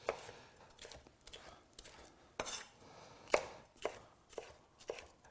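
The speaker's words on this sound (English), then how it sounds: "And then I'll go back and just cut strips." A knife on a cutting board slices peppers into strips in a series of sharp, close taps at an uneven pace, quiet between strokes, with no talking.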